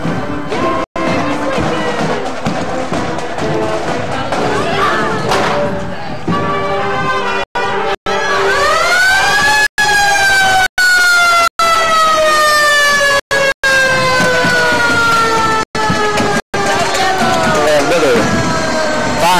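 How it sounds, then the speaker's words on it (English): A loud Denver Fire Department engine siren wails with rising and falling tones, joined by bursts of air horn, close by over a busy outdoor parade crowd. "Engine coming through from the Denver Fire Department"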